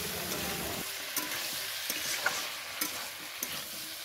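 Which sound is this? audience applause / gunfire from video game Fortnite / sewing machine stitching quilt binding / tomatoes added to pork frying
tomatoes added to pork frying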